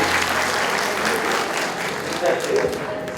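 Steady applause fills a hall at an awards ceremony, many hands clapping continuously at moderate volume with a faint murmur of the crowd beneath.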